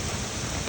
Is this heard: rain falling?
yes